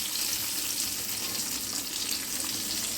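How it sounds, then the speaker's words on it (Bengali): Eggplant slices fry in hot oil in a pan until reddish-brown, giving a loud, continuous crackling sizzle with no talking. "বেশ একটু লাল লাল করেই ভেজে নিলাম,"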